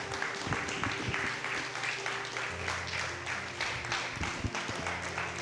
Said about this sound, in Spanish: Denle un aplauso al Señor en esta noche, por favor.